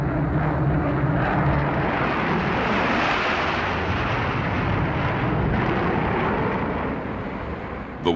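A Northrop flying wing bomber fitted with eight turbojets flies past, a steady broadband jet roar that holds loud and constant before easing off near the end.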